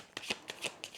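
A tarot card deck is shuffled close up, giving four or five quick riffling bursts in an uneven rhythm, fairly quiet, with no voices.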